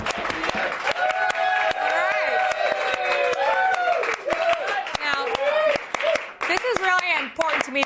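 Studio audience clapping in sharp, rapid bursts throughout, running under loud, lively talk from a host on a comedy web show.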